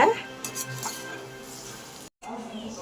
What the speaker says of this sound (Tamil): இதுக்கு மேலே நம்ம சாப்பாடு கிண்டிக்கலாங்க